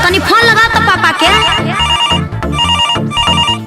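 A musical ringtone or caller tune plays loudly and steadily with a driving beat on an outgoing phone call, filling the whole stretch with no speech over it.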